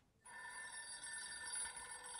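Telephone ringing with a sustained electronic trill that starts abruptly and holds steadily, faint and somewhat distant, with no voices.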